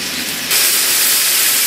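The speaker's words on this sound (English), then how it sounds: "It's getting quite loud and sizzling a lot." Meatballs sizzle in a pan with a loud hiss filling the air, jumping suddenly louder after a moment and holding steady, close up with no voices.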